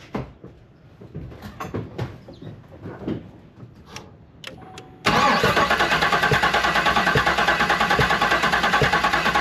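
A GM 6.2 V8 with a bad AFM lifter and pushrod gives a few quiet clicks and knocks, then cranks, catches and settles into a loud, steady idle with a rhythmic pulse.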